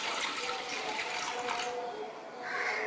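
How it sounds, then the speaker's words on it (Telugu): Water splashes and drains steadily as it is tipped off rinsed, soaked dal for a mango dal dish, a continuous close gushing that swells again near the end, with no talk. "మనం నీళ్ళు వంచుకుందాం"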